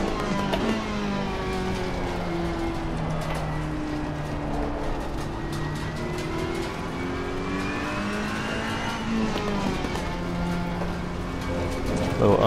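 Race car engine in Assetto Corsa Competizione, a GT racing sim driven on a direct-drive wheel, revs and shifts continuously through corners with warm tires, engine pitch climbing and dropping steadily and loud throughout.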